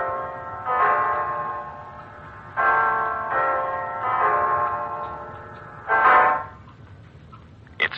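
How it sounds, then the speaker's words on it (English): Clock chiming the hour in an old-time radio horror drama, heard as five loud, ringing bell-like strikes with long sustained tones, some overlapping, spaced unevenly across the span. "It's 9 o'clock, Mrs. Reeves."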